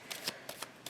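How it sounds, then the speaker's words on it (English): A Smith-Waite Centennial Edition tarot deck is shuffled by hand in a quiet room, giving several short, crisp riffling bursts in quick, uneven succession. "Now let's shuffle these cards."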